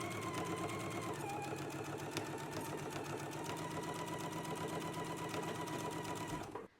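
A sewing machine stitches a 5/8 inch side seam in a steady, fast whir with a rapid, even needle rhythm, running close and continuously before stopping abruptly at the end.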